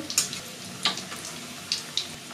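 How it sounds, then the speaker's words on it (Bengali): Chicken kebabs fry in a pan with a steady, close sizzle broken by a few sharp pops. "এখন এগুলোকে ভেজে নিতে হবে এক পাশ হওয়া পর্যন্ত"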